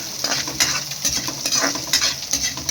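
Garlic sautéing in a hot pan, an intense steady sizzle broken by rapid scraping stir strokes of a utensil, close and loud without speech.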